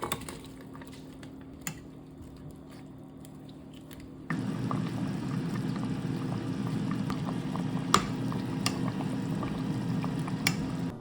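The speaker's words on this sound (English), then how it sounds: "Bring it to a boil until the sugar is fully dissolved." A pot of sugar, water and vinegar pickling liquid on the stove, bubbling steadily at a low level, growing louder and busier midway with a few small clinks of the pot.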